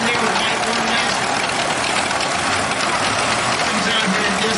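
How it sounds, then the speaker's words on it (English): A 1935 John Deere B tractor engine runs loud and steady with a rough, continuous rumble, with voices mixed in. "It's a 1935 John Deere B."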